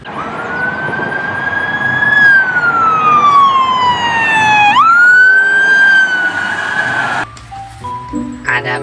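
Police car siren wailing loudly up close, one long sweeping tone that dips and then climbs again, cut short by other vehicle noise at the end.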